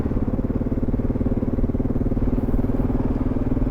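Adventure motorcycle riding on gravel roads in the Western Australian outback, a loud close engine drone with a rapid pulsing throb holding steady throughout, no talking.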